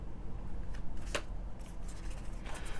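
Tarot cards from a Tarot Renard deck being shuffled close up, soft riffling and flicking with a sharper snap near the middle and a brief burst toward the end.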